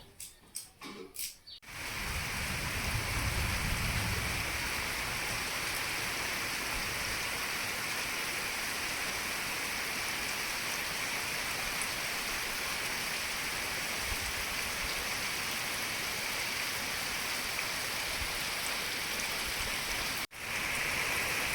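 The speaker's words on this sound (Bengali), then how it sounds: "এত বৃষ্টি ঝমঝম করে পড়ছি" Heavy rain pouring down in a dense, continuous roar of drops hitting surfaces, steady and loud after a few brief knocks at the start.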